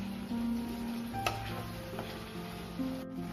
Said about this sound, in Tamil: ஒரு 3/4 வாசி வேகிற அளவுக்கு நல்லா கிளறி விடுங்க